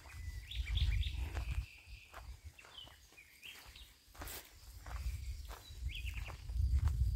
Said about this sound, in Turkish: kuş sesleri